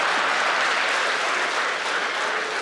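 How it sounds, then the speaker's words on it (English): Dense, loud applause from a conference audience of editors in Nigeria, honouring the President, a steady unbroken wash of clapping throughout. "Please, can we put our hands together again for Mr. President?"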